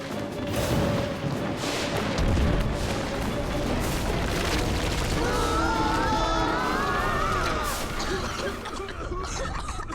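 Heavy booms and crashing impacts of a cartoon meteor shower pound repeatedly in a chaotic barrage, with whistling streaks and debris noise layered over the din.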